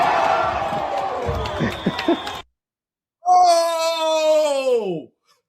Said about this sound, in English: Did you hear the crowd?